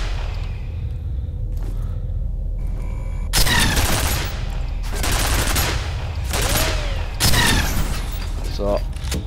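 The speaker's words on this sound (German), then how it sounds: "Hör doch mal auf zu schießen, Mensch." Bursts of rapid gunfire and combat clatter from the shooter game F.E.A.R., loud dense volleys starting a few seconds in and recurring in waves, with a voice faintly underneath.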